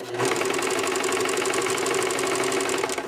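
Close up, a sewing machine stitches through several layers of fabric for a slipcover skirt, making a steady, rapid mechanical hum and clatter that runs unbroken for about three seconds.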